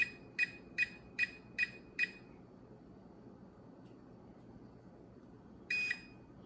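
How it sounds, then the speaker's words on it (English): Radio transmitter for a Volantex RC P-51D Mini Mustang warbird plane switching on: five quick, evenly spaced high beeps, then a pause and one longer beep, clear over a quiet room. "I turn the radio on and I hold that in like that and it starts beeping"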